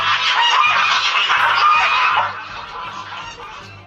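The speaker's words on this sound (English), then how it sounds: "What's that sound? Oh no, it's a gaggle of geese," A gaggle of geese honking loudly and close, overlapping nasal calls in a dense chorus that eases off slightly toward the end.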